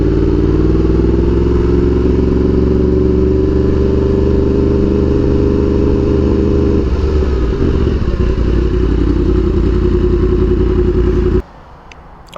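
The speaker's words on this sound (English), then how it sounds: "Just move my motorcycle real quick" A hot motorcycle engine idles loud and close with a steady low rumble, then its tone wavers and shuffles as the bike is moved, before cutting out suddenly near the end.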